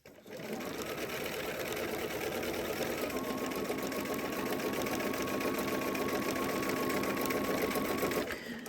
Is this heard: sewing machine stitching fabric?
yes